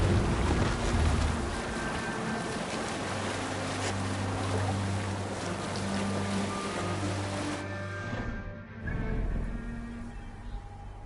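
A sailing ship moves through the sea in Assassin's Creed Valhalla, with a steady rush of wind and waves and a low droning tone underneath, easing near the end before rising again.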